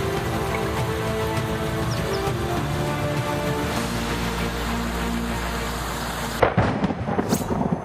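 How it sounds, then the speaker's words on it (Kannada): Heavy monsoon rain pours steadily in Maharashtra, with deep rumbles of thunder rolling underneath and a sharper, louder crack of thunder near the end; no voices. "ಪಕ್ಕದ ಮಹಾರಾಷ್ಟ್ರದಲ್ಲಿ ಮಳೆ ಅಬ್ಬರಿಸಿ ಬೊಬ್ಬರಿಯುತ್ತಿದೆ."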